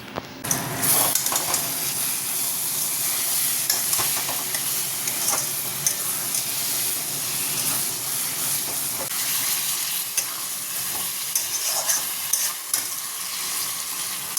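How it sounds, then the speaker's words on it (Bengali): Soybean chunks fry in oil in a wok, giving a steady, close hissing sizzle with intermittent stirring scrapes and spatters, and no voices. "এই যে সোয়াবিনটা অন্য কড়াই ভেজে নিচ্ছি"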